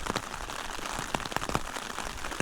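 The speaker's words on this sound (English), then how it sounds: "Sounds like we're in for a rainy day." Morning rain pattering on a surface, a steady close spatter of scattered drops with no voices.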